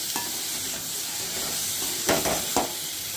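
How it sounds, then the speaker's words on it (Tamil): Onions sauté with chili and turmeric powder in a pan for an ivy gourd stir-fry, a low continuous sizzle with a couple of brisk scraping stirs near the end, close by. "கொட்டிட்டு நல்லா சுருளில் வதக்கணும்."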